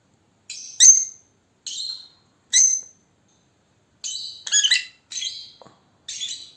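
A paradise parrot sings in a series of short, bright chirping phrases with brief pauses between them, clear and fairly close, no voices.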